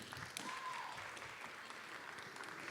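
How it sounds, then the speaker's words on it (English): An audience at a film festival panel claps for an introduced filmmaker and professor, a faint, diffuse patter of many hands heard from a distance with a brief tonal whine near the start. "Applause break."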